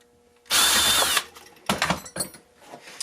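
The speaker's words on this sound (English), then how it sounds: "all I have left is to drill the little pilot holes for the wood screws." A power drill bores small pilot holes for wood screws while a propane forge is built from a mini beer keg. One loud, sustained whirring burst of under a second is followed by several shorter clattering knocks and handling noises.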